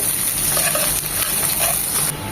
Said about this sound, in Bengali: রসুন কুচিটা এক মিনিট হওয়ার পর এখন এখানে দিয়ে দিচ্ছি দু চামচ পেঁয়াজ কুচি